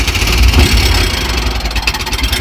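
An old scooter engine started and left idling rough, a loud close uneven putter with a low throb that pulses irregularly.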